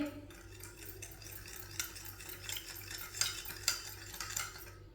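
Salt is stirred into chicken with lemon juice, a spoon clinking and scraping against the dish in a soft, uneven rhythm, quiet and close.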